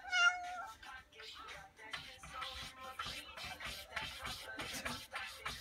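A cat standing on a laundry basket by a closet door in a cabin lets out a clear meow, followed by soft shuffling and rustling as it moves about nearby.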